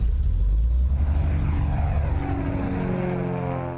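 A 1957 Cessna propeller airplane drones past close overhead, loud and rumbling with a falling engine pitch as it moves away, no voices.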